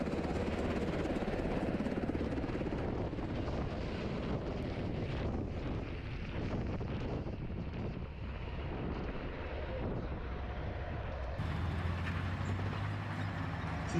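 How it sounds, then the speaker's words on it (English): Helicopter landing in a frontline combat zone during disaster medical evacuation, a steady loud rotor and engine roar with heavy wind buffeting throughout, the low drone shifting slightly near the end. "we land helicopters inside the combat area, in frontal area"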